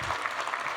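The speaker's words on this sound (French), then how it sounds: "je vous propose d'accueillir chaleureusement sous vos applaudissements Monsieur le ministre Amadou Hott" Steady applause from an audience at an investment forum in Abidjan welcoming a government minister, a dense even patter of many clapping hands filling the moment.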